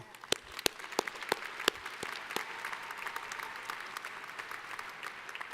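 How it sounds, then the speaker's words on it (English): Audience at a California State University education school convocation applauds, with a few sharp, close claps at the start blending into steady, fairly soft crowd clapping that continues evenly in a large hall. "that deserves a round of applause"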